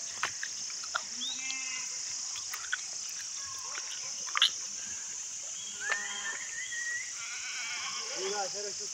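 Sheep and goats bleat several times, near and far, over a steady high insect chirr outdoors, with someone speaking in between.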